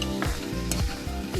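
Silkworms are stirred while frying in oil, giving a brief, soft sizzle with a few scraping stirs. A steady humming tone runs underneath.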